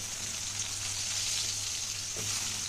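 Chopped onion and potato pieces fry in a pan with a soft, even hiss that holds steady for a few seconds, quiet and close, with no talking.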